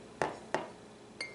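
Sugar being added to warm water in a glass, heard as three short, bright clinks against the glass, two close together and a softer one after a pause, in a quiet kitchen.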